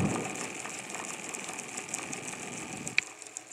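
A homemade brushless fan motor runs steadily with a continuous whir and hum, picked up close by with a faint tick near the end.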